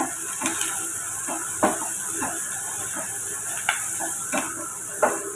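Onions, chilli and curry leaves sauté in a pan for an egg curry, with a continuous bright sizzle and hiss and several scraping stirring strokes at a loose rhythm, close and alone without talk.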